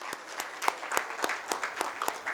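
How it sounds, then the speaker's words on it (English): Sparse, quiet clapping from a small audience at a company event, irregular individual claps spaced apart rather than a dense ovation. "I would like you all to clap for them for a moment"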